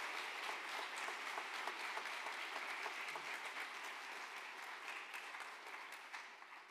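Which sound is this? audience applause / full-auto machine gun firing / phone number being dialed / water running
audience applause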